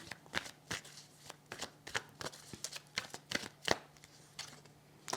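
Tarot cards are handled and laid down on a table, a series of crisp card snaps and soft slaps in an irregular rhythm, close and fairly quiet, with no talk over them.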